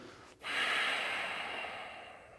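A single deep, forceful breath during a deadbug breathing exercise, lying with knees at ninety degrees: a quick sharp intake swells into a long, steady airy rush that slowly tapers, close and alone.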